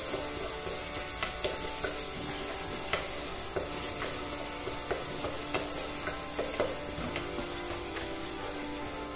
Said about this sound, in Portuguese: já dá pra entrar com o alho. Deixar ele fritar